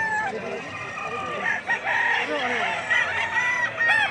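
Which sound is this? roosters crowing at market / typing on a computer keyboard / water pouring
roosters crowing at market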